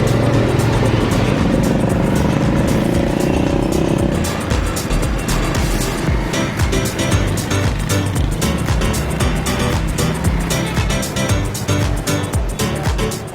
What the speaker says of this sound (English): It's a motorbike connected to a cart.